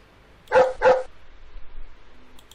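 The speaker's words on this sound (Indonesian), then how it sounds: "Oh, the dog, anjing." A dog barks twice in quick succession in an educational children's video game, two loud, close barks followed by quiet.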